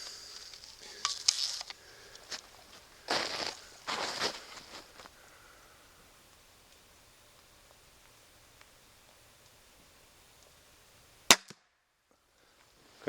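A crossbow shot taken by a hunter outdoors: a sharp, very brief snap sounds near the end after a stretch of quiet, with a few earlier rustling bursts.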